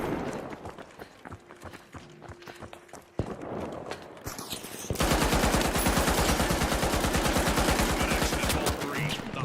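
Gunfire in the video game The Finals: scattered single shots and footsteps give way to a sustained rapid automatic burst, loud and close, running to the end.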